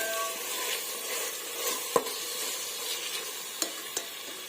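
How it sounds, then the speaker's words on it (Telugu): Diced tomatoes and green chillies fry in oil for a chicken biryani, giving a steady, loud, close sizzle with a few sharp clicks from stirring. "ఇవి కూడా బాగా ఆయిల్లో మగ్గనిద్దాము."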